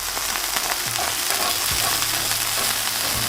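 Smash burger patty frying on a hot griddle, a steady close hiss and crackle of sizzling fat with no one speaking.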